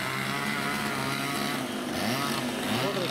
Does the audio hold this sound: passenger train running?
no